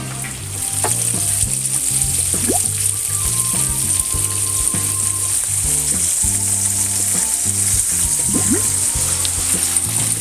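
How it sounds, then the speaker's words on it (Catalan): Sardines dredged in flour fry in hot oil with a loud, continuous sizzle and crackle, close up, while a low tonal hum runs underneath and no one speaks. "expulsarem les sardines per retirar l'excés de farina i les anem fregint"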